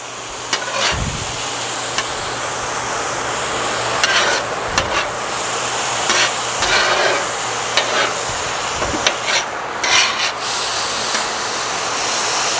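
Onions, shallots and garlic sautéing in a pan give a steady loud sizzle, with scraping and knocking as they are pushed around, continuing throughout with no voices.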